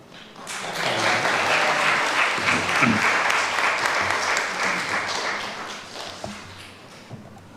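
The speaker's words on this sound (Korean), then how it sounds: "박수 하시겠습니다." A church congregation at a Sunday morning worship service applauds in welcome, a sustained wave of many hands clapping that swells quickly, holds for about five seconds, then thins out to a few scattered claps.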